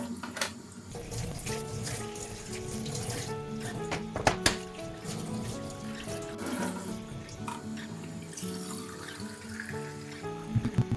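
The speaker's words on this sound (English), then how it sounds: "wash them well with lukewarm water." Running lukewarm tap water pours steadily into a sink as the separated parts of a Nespresso Inissia coffee machine are washed, with a few brief clatters of the pieces knocking together along the way.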